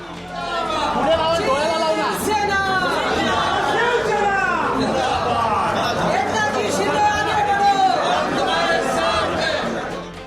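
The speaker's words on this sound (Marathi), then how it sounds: "राज्यसभेचा उमेदवारी अर्ज भरल्यानंतर शिवसेनेनं विधिमंडळाच्या पायऱ्यांवर केलेला हा जल्लोष" Shiv Sena supporters celebrate on the legislature steps after a Rajya Sabha nomination filing, a dense crowd chattering and calling out together in continuous excited babble, close and loud.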